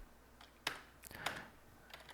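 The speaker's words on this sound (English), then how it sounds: "I'm going to have to type out a few things here" A few quiet bursts of keystrokes on a computer keyboard, irregular clicks clustered in short runs with pauses between, close and alone in an otherwise still room.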